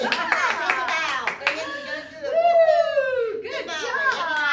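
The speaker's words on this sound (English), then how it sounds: "Give a round of applause" Applause from a story-hour audience of children and adults, a short burst of clapping at the start, then kids' voices and cheering carrying on over it.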